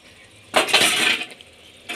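A metal lid set down on a cooking pan of mushroom and mustard-oil dish, a bright clattering clink lasting under a second, followed by a softer second knock close by.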